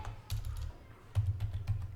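Someone typing a Linux command on a computer keyboard: scattered, close keystroke clicks over a low steady hum, with no speech.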